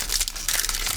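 A Pokémon booster pack's foil wrapper is crinkled and torn open up close, giving a loud, continuous crackling rip that lasts about a second.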